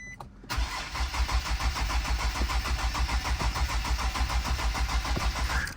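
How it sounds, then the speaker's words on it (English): A Redeye Jailbreak car's starter cranks the engine in a steady, even rhythm for about five seconds without it catching, loud and close, after the fuel pump is primed. "Hopefully this freaking car starts."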